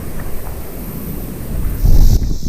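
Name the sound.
wind blowing outdoors by a pond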